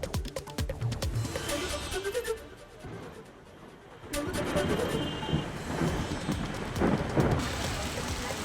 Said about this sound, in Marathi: वाशिममध्ये देखील विजेच्या कडकडाटासह वादळी पाऊस बरसलेला होता